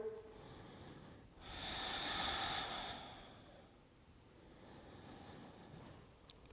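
Slow, deep breaths during indoor stand-up paddleboard yoga, one long soft exhale swelling in the middle, faint and close in a quiet room.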